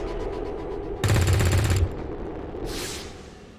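Gunfire from the XCOM video game comes as a loud, rapid burst lasting close to a second. A shorter, softer blast follows it after a brief pause, over a low ambient hum, and there is no talking.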